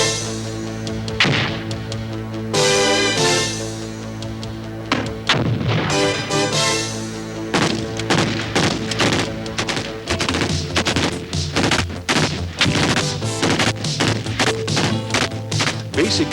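Navy SEAL trainees fire weapons and set off pyrotechnics on San Clemente Island: loud, sharp reports and heavy thuds in irregular bursts, some in rapid runs like automatic fire, loud and close with almost no pause.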